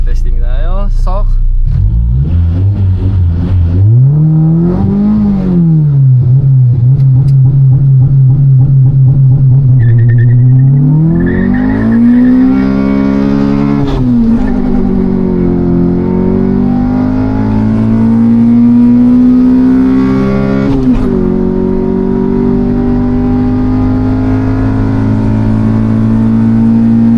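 A car launches down a drag strip on a test run, the engine rising in pitch through long gears with a loud sustained drone, gear changes audible as dips and climbs, recorded close.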